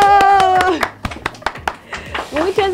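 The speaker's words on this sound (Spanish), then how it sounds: "¡Un aplauso!" After a live acoustic song in a small suite, a few people clap in a brief scattered burst of distinct hand claps, with someone singing or speaking over the start.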